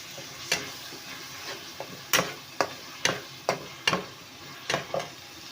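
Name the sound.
tomatoes cooking with onion, ginger-garlic paste in pan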